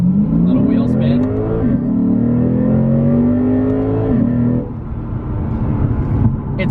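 Lexus RC F performance car accelerating hard with a little wheel spin, its engine note rising in a loud, sustained pull that drops away near the end, heard from close by.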